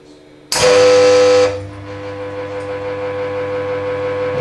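A car air conditioning service station switches on and starts its vacuum cycle: a loud burst of noise at first, then a steady electric hum with a tonal whine that carries on alone.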